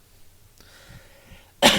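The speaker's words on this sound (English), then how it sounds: "Excuse me, I'm sorry, I have a cough today." A single sharp, loud cough bursts out near the end after a stretch of quiet room tone.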